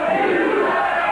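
A wrestling arena crowd roars and shouts steadily throughout, a dense, loud wall of voices filling the whole moment at a televised British wrestling show.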